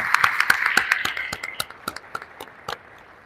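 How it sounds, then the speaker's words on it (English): Scattered clapping from a small outdoor crowd at a school groundbreaking ceremony, a few sharp distinct claps that thin out and fade over a few seconds, along with a faint high tone early on. "I think that deserves a huge round of applause."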